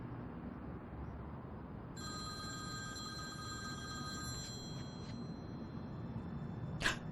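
A telephone rings faintly in a quiet room, a bright trilling bell that starts midway and repeats in short bursts over low background hiss.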